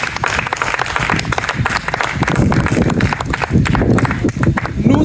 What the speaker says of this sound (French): Est-ce que vous pouvez vous acclamer vous-même pour vos efforts?